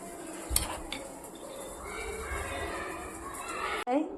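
Homemade garlic-coconut chutney being scooped from a mortar into a bowl, with scraping and light clinking of a spoon against the vessels in a home kitchen.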